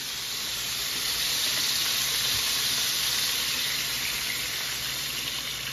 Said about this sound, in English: Can you fry chicken without flour?